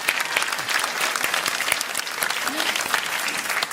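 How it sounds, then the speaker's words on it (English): Applause from a political rally crowd for a county councillor candidate in Essex, a steady dense wash of many hands clapping throughout, loud and close, with faint voices mixed in. "Can we get a round of applause for that?"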